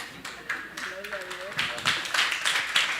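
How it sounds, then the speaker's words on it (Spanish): A church congregation claps after a Bible class, a brief scattered round of applause that builds toward the end, with a voice speaking briefly over it. "Un aplauso."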